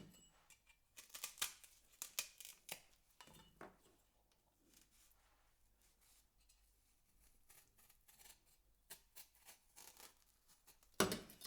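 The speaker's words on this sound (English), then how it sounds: "Okay guys, so I have my plantain here. I'm going to cut it and slice it." A knife cutting and slicing a plantain on a board, heard as irregular sharp taps and soft scraping strokes. It comes in clusters, then quieter pauses, with one loud knock at the end.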